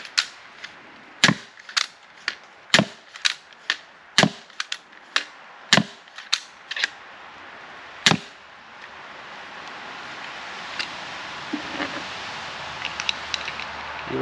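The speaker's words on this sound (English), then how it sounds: "this is a crossbow, and this has been replaced with the 80-pound limb rather than the original 35" Steambow Stinger 2 crossbow fitted with an 80-pound limb, firing a rapid series of about a dozen sharp, loud snapping shots over the first eight seconds, followed by quieter rustling and faint clicks.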